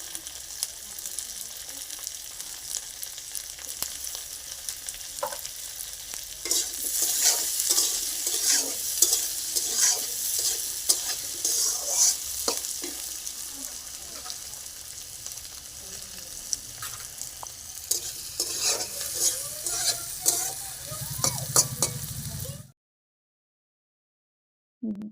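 Vegetables, including eggplant, fry and sizzle in a pan while a spoon stirs them with repeated scraping clatter, close and steady throughout, before stopping abruptly into silence near the end.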